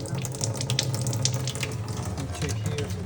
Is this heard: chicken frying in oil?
no